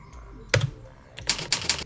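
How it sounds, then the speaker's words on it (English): Key clicks while entering a name in the Mud Splat game: one sharp click, then a quick run of several evenly spaced clicks, close and fairly loud, with no speech over them. "you can hear that clicking noise as it erases your letters"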